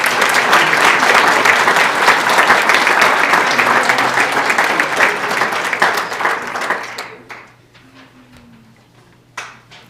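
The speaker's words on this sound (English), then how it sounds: "Let's share a round of applause for Jacob Saltman." Awards-ceremony audience applauding steadily and loudly for about seven seconds, then thinning to scattered claps and fading into near silence with a single late clap.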